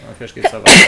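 A single loud, sharp sneeze bursts out close by right after a short phrase of German speech, during a split-screen co-op session of Gears of War 4.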